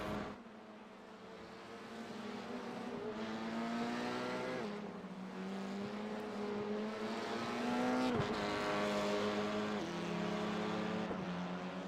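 An F3/F4 open-wheel race car in a sim racing game at Catalunya, its engine whining and climbing through repeated rising gear sweeps with brief drops at upshifts, a steady moderately loud drone throughout.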